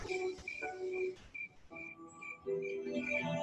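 Crickets chirp at night near the ocean, faint, repeating high trills in irregular bursts over a quiet, dark background.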